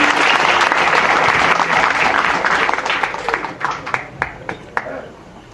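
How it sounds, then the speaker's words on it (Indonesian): A gathered audience at an Islamic religious event applauds, a dense burst of many hands clapping that fades into scattered, separate claps near the end. "Tepuk tangan."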